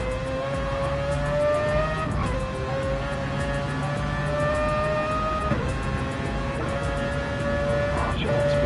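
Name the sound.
Mazda race car engine cornering a hairpin in Gran Turismo 7 video game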